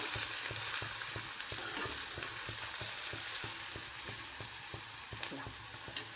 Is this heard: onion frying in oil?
yes